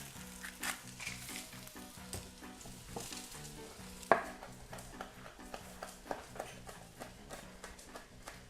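Potatoes with salt sizzle and fry in a pan, a steady soft crackle with occasional pops and stirring clatters, one sharp knock near the middle, heard fairly quietly with no talk.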